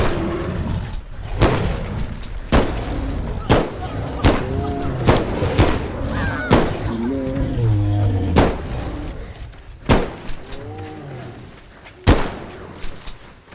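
Gunshots ring out in a Bigfoot hunting video game, about a dozen sharp, loud reports spaced irregularly a second or so apart, with voices talking between them.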